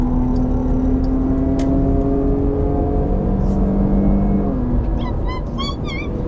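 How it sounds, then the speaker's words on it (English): A Hemi V8 fitted with Jones straight-through mufflers and an X-pipe rumbles steadily up close with a deep, continuous drone that shifts pitch near the end, suggesting a rev change. "I love to hear these mufflers with the Hemi."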